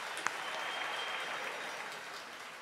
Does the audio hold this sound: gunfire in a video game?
no